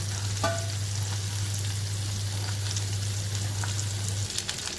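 Okra frying uncovered in a pan, giving a dense, continuous close sizzle with faint crackles and a brief utensil clink early on, steady throughout and with no voices.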